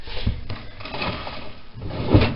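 A wooden drawer rattles and slides as someone rummages through it for fake blood, with soft knocks and shuffling of small items close by.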